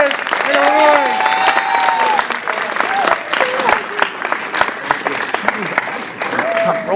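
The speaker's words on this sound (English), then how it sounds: "Round of applause for all our players and our wives." A round of applause for players at a cigar-rolling event, crisp clapping from a sizeable audience with scattered whoops and voices rising over it, loud and close, pulsing unevenly before continuing steadily.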